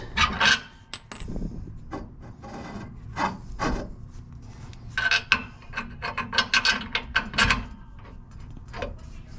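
A hand ratchet tightens bolts during the install of a Ford 8.8 axle into a Ranger, with bursts of quick clicking strokes and short pauses between them, close and clear with no talking.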